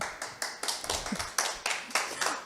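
Clapping from a small audience at a Korean product lecture, a few seconds of rhythmic, fairly close hand claps in uneven bursts, alone without voices.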